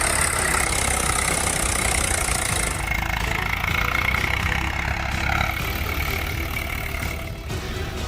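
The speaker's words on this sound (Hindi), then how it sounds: "खेत में तैयार फूल गोभी की फसल पर ट्रैक्टर चलाता किसान" A tractor drives over a cauliflower field, its engine a low, steady rumble at moderate distance, with brief faint shifts in tone and no talking.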